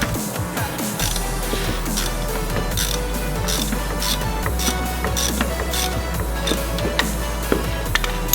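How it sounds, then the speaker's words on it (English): A 3/8 ratchet with a 6-inch extension works an oil drain plug loose on a 2021 Lexus IS350, with rapid repeated clicking of the pawl in quick bursts, close and clear over a low steady hum. "I just got my 6-inch extension for the 3/8 ratchet"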